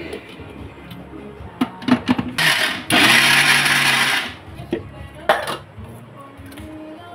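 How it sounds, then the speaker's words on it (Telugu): Peanuts tipped into a pan for Telugu sesame chilli powder make a short clattering rush, framed by scattered clinks and taps of a utensil against the cookware. "పల్లీలు వేసుకుందాం."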